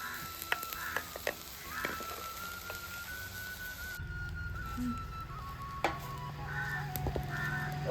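Dried shrimp roasting in a pan, a soft steady sizzle running underneath while crows caw repeatedly in the background.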